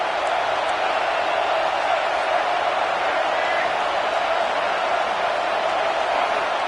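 Home crowd at a college football game between Nebraska and UCLA in a stadium, a dense, steady roar of cheering that stays loud and unbroken with no single voice standing out.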